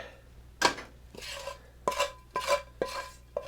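Potato pancake batter being mixed with feta cheese and bacon in a bowl, a handful of separate scraping, clinking strokes of a utensil against the dish, close and fairly clear with quiet pauses between.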